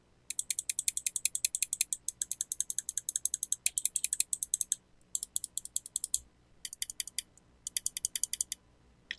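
Rapid clicking from a Finalmouse Starlight 12 mouse fitted with an upgraded switch, crisp close-up clicks in quick bursts of steady rhythm separated by short pauses, with no other sound.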